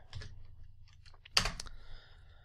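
Fingers type on a computer keyboard in a Linux terminal: a few quiet key taps, then a louder burst of quick clicks, ending in faint hum and near silence.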